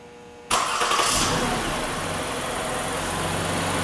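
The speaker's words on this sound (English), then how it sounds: "in a few seconds, the car will start" A 2016 Lexus RX350 engine cranks and catches on remote start, then settles into a steady idle that keeps running.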